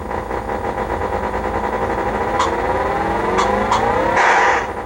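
Racing cars in an Atari Sprint 2 arcade game, one stuck in third gear, give a loud, steady electronic engine drone with rising and falling pitch sweeps and a few short skid-like bursts near the end.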